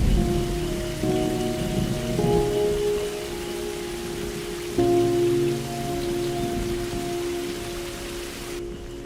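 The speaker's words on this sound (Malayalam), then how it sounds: "നല്ല മഴയാ, കുറഞ്ഞിട്ട് പോ" Steady heavy rain pours on a surface in a Malayalam film scene, broad and continuous with a droning tonal hum and a few soft low rumbles, with no talk over it.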